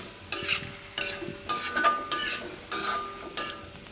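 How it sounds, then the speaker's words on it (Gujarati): Onion pickle mixed into hot oil in a pan with the heat switched off, several distinct scraping and stirring strokes of a spoon against metal in quick bursts, close and clear. "ખાલી ગરમ તેલ છે એમાં જ મિક્સ કરવાનું છે."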